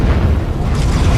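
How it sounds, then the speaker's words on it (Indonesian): A loud, dense blast of low rumbling noise from exploding biodiesel that stays heavy and sustained throughout, like a big explosion with roaring aftermath. "biosolar itu meledak membuat para zombie terpental kemana-mana"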